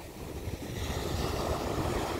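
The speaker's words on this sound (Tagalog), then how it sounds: "lalaki ng alon, no?" Steady roar of big ocean waves and wind at the shore near Mayon Volcano, a continuous wash of breaking waves with gusts buffeting the microphone, no voices.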